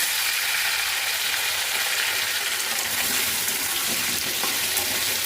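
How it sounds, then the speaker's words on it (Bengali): Potatoes frying in hot oil in a kadai, a loud, dense, continuous hiss with no pauses and no voices. "এবার আলুগুলোকে ভালো করে লাল লাল করে ভেজে নেব।"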